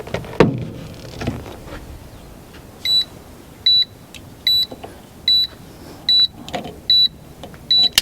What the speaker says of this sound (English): the beep lets you know that you got the cables on wrong